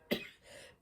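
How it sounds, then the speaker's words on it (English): A person gives a single short cough, fairly quiet and close, followed by a faint trailing breath. "I'm still coughing."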